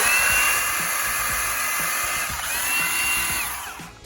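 A Milwaukee M18 cordless hatchet saw on a full battery runs steadily at high speed with a strong whining motor tone, winding down near the end.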